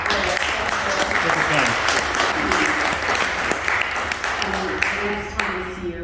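A room full of people at a community organisation's annual general meeting breaks into steady, dense applause that fills the whole stretch, with a few voices mingling underneath.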